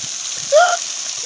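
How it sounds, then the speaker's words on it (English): A waterfall gives off a steady, bright rushing hiss of falling and splashing water, close and constant, with a brief voice sound rising over it partway through. "This is the waterfall, guys."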